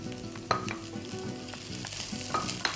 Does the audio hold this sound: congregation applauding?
no